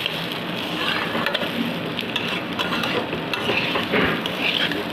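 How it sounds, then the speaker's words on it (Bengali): Rice fries in oil in a kadai, making a steady crackling sizzle with scattered sharp pops and light scraping stirs, continuous and close. "এখন শুধু চালটা একটু ভাজবো"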